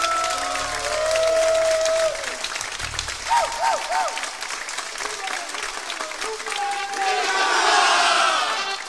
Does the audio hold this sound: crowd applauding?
yes